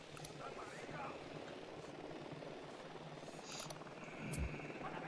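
Enemy helicopter in Ghost Recon Wildlands approaching, a steady rotor and engine drone running under game sound effects and a few sharp bursts, moderately faint, with radio voices talking in the background.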